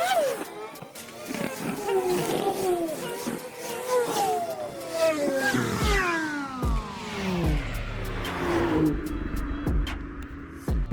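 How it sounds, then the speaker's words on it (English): BMW cars drive past one after another beside a lake, each engine note rising and falling as it sweeps by at moderate distance. The passes overlap in a continuous stream with occasional revving. "a little montage here of everyone driving past"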